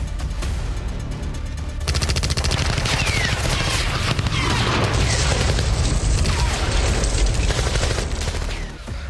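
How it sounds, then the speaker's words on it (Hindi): Heavy, sustained automatic gunfire hits a car in a dramatized attack, with dense rapid bursts and booming shots layered loudly and continuously throughout. "अचानक एक गाड़ी पर जबरदस्त फायरिंग होने लगती है।"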